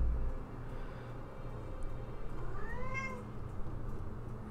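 A pet cat perched somewhere off-limits lets out a clear, close meow with a rising and falling pitch, over a low steady background hum.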